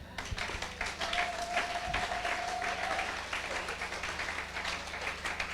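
A church congregation applauds in praise of God, a sustained wash of clapping from many hands that swells and then continues steadily in a large room.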